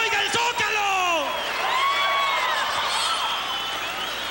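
Large outdoor crowd at a concert in Mexico City's Zócalo cheering, whooping and clapping, a dense wash of noise with whistles and shouts sustained throughout.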